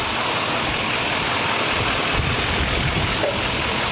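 A 2021 Chevrolet Silverado 2500 with a Duramax diesel rolls forward on its first drive, a steady low engine rumble and broadband road noise, close and continuous with no talk.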